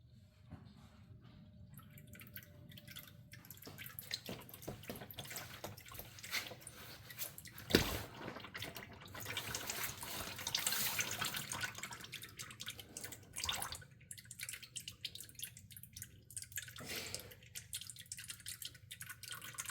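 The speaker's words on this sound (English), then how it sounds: "this is the perfect time to watch the beauty of the transmission oil drain" Transmission oil drains from the drain plug of a BMW ZF8 automatic gearbox, heard as a steady, faint trickle and dripping close by, with occasional louder splashes.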